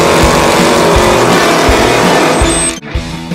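Loud, continuous roar of American race car engines at full throttle, dense and steady before a brief dip near the end, with no voices.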